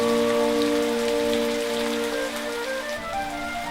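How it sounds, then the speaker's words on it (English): Steady rain falls on surfaces, a dense continuous patter holding at an even level throughout, with a faint tonal hum underneath and no voices. "Without Mrs. Kyndley, this rain won't stop,"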